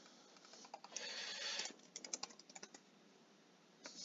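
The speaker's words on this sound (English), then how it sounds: "I'm double clicking in here, typing the stuff." Someone types on a computer keyboard in quick, light clicks, some in short flurries and some spaced out, close and fairly quiet, with no talking.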